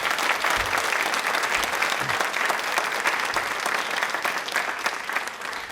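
Sustained, dense applause from a large studio audience during a televised quiz programme, steady and loud throughout with no pauses or talking on top.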